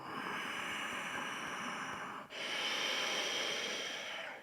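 Slow, steady breathing held through a yoga hip stretch, a continuous soft airy rush with one brief pause midway, close and alone.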